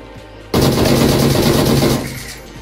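Rapid automatic gunfire in a competitive shooter game, a loud sudden burst of densely spaced shots lasting about a second and a half before tapering off, no voices.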